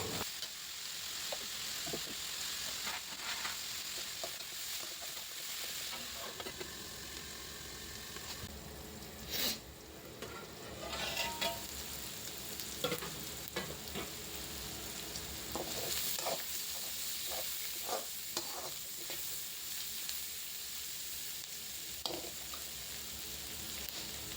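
Onions frying in a pan with a pinch of turmeric and salt, a steady sizzle running throughout with intermittent scraping stirs, no voices.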